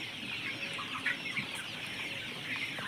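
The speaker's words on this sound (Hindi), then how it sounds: "ये हमने न्यू खरीदे हैं चिक्स" Newly bought baby chicks chirping and peeping in a busy, steady chorus of small high calls, fairly quiet and close, with no talking.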